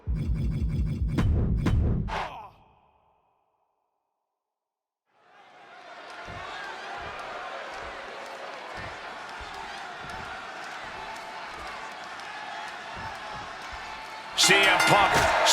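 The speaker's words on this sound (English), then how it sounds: "And just listen to this crowd here in Chicago." Arena crowd in the WWE 2K26 video game, at a Chicago match between CM Punk and Eddie Guerrero, rises into a loud, sustained roar after a brief silence, with voices and sharp hits near the start.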